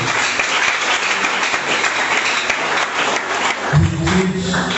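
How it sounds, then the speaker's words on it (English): Sustained applause from a school debate audience at a Comprehensive versus St. Michael's College contest, a dense steady roar of many hands clapping close by, which thins out near the end as a low voice begins. "Please, can you give him some wonderful rounds of applause?"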